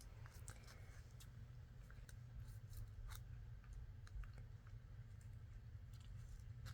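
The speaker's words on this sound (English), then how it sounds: "I'm going to trim these off because I only want it on the pocket." Scissors trim paper off a handmade faux envelope so only the pocket stays, giving faint, scattered snipping clicks over a low steady background hum.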